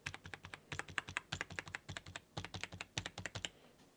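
Typing on a Marvo Scorpion K607 compact 80% TKL gaming keyboard, a close, fast run of crisp, clacky keystrokes in uneven bursts with brief pauses, and no talking.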